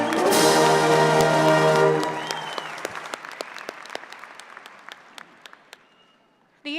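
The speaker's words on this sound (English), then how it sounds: "Join me in applauding their service to this great nation" Applause at a university spring graduation ceremony honoring service members, a full swell of clapping with a sustained tone beneath that thins into scattered, fading claps.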